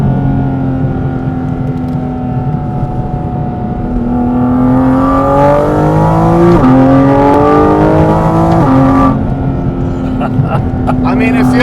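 A Porsche Cayman GT4 RS engine climbs loudly through the revs while accelerating on back roads, a steady mechanical howl rising in pitch with a gear shift partway through, heard from inside the car.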